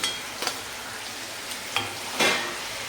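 Bori lentil dumplings, bitter gourd and brinjal fry in a pan for shukto, giving a steady hiss of sizzling oil broken by a few sharp scraping stir strokes close by.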